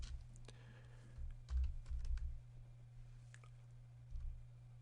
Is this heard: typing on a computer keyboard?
yes